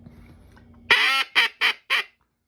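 Four sharp, nasal blasts from a retuned Haydel's BB-10 Big Blue teal duck call, the first longest, then three short quacks in quick succession, loud and close after a quiet stretch.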